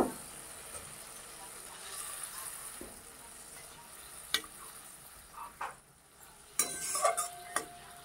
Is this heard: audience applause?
no